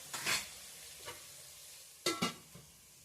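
Onions with turmeric stirred in a pan, two quick clusters of spatula scrapes over a faint sizzle, near and short, with quiet gaps between.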